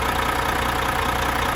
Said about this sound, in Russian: завели двигатель.